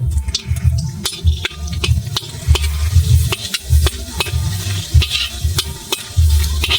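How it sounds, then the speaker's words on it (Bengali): Papad frying in hot oil gives a steady, close sizzle with a low bubbling rumble and regular light taps and clicks recurring throughout. "আমি এখন পাঁপড় দিয়ে দেবো তেলে।"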